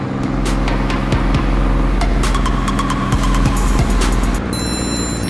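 Triumph Rocket III motorcycle on gravel, loud close engine roar throughout with rising revs and clutchless upshifts, the pitch climbing in steps under constant wind buffeting.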